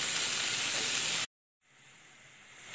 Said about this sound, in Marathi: आता हे जवळजवळ 5-1 मिनिटं मी चांगलं परतून घेणार आहे।